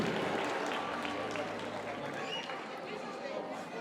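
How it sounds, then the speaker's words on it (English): Audience clapping at a school speech and prize-giving day, a steady dense patter of many hands from a crowd, with murmured chatter mixed in throughout. "Please clap as they come here"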